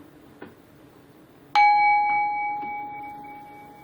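A single bright bell chime strikes sharply and then rings on with a sustained, slowly fading tone, alone over a quiet background.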